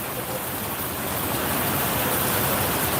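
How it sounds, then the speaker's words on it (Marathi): Heavy monsoon rain pours down in Beed, blending with the steady roar of rushing water, a dense, continuous wash of noise with no pauses and no voices. "अतिशय भरपूर प्रमाणात पाऊस चालू झाला आहे"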